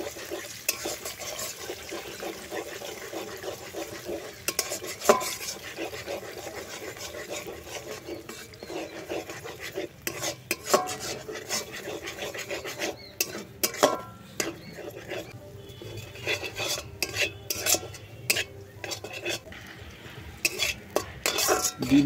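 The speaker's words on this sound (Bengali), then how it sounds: "চাউমিনে দেওয়ার জন্য দুটো ডিম ভেজে নেব।" Two eggs scrambled and stir-fried in a pan for chowmein, with a spatula scraping and stirring against the metal through a steady crackling fry, busy and close, with no talk.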